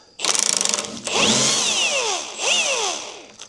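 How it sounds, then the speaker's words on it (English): A ratchet or power tool whirs and clicks while loosening the top nut of a front shock absorber on a 1967 Volvo 1800S, with bursts of rising mechanical whine, close and loud, no talking. "I'm gonna loosen the front shock absorber. Take the top nut off."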